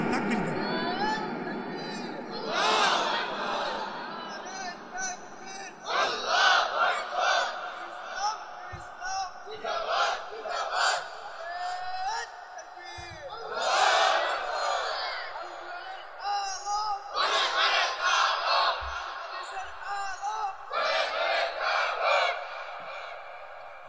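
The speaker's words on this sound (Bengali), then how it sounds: "তাকবীর দেন, তাকবীর দেন।" A sermon crowd shouts takbir, Allahu Akbar, in repeated loud collective bursts of massed voices that rise and fall, separated by short pauses.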